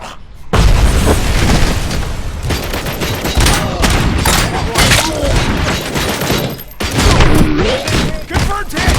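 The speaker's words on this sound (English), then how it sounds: "Throwing grenade!" Grenade blast in the RoboCop video game, a loud booming explosion followed by a sustained barrage of rapid gunfire and thumping impacts, dense and close throughout.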